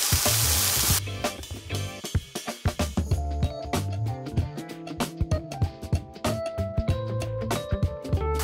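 Garlic, green chilies and bell pepper fry in a pan for shakshuka, a loud continuous sizzle with dense crackling pops and occasional clacks of a utensil, close and steady with no talking.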